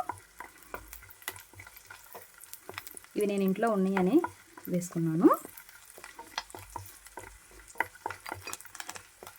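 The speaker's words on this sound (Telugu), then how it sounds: "ఇప్పుడు ఇందులోకి నల్ల ద్రాక్ష వేసుకోండి. వేసుకొని ఇది కాస్త పొంగేంత వరకు వేపుకోండి" Black raisins frying in ghee in a small pan, with a soft crackling sizzle and light scattered clicks of a spoon, and a short stretch of speech in the middle.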